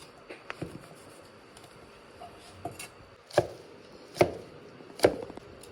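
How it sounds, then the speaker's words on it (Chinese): Fat pork is sliced into long strips with a knife on a cutting board, giving a few sharp, close knocks spaced roughly a second apart with quieter taps before them. "准备1块钱的肥猪肉，来，先把它切碎，先切成长条。"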